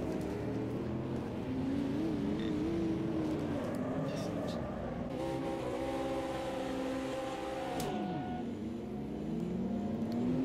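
GT3 race cars at the Nürburgring in Automobilista 2: several engines drone and rise through the revs with overlapping pitch sweeps as cars jostle close together, steady and moderately loud, with a voice talking over them.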